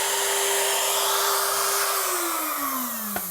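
A power router makes a shallow cut into a clamped guitar body, a steady close high-pitched whine that drops in pitch as it spins down near the end, with a small knock just after.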